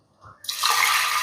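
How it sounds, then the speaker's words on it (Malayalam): Water pours into a pressure cooker holding washed dried beans: a faint knock, then a sudden close, steady rushing gush that fills out and keeps running to the end. "ഒരു 5 ഗ്ലാസ് വെള്ളം ഒഴിച്ചിട്ട് നമുക്കിത് വേവിച്ചെടുക്കാം കേട്ടോ."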